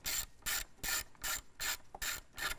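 A ratchet wrench works a small nut loose on a van battery terminal. It gives about seven quick bursts of close, crisp clicking in a steady back-and-forth rhythm, with no talking.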